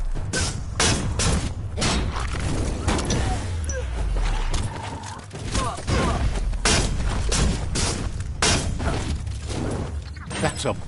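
Repeated bomb blasts from a bomb lobber enemy in the action game Biomutant, a dense run of loud booming thuds and crashes over constant battle noise, with a voice talking over the top.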